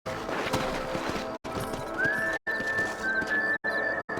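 Horses galloping with rhythmic hoofbeats and a whinny in the video game Red Dead Redemption, loud and continuous with a whistling tone and brief cuts of silence.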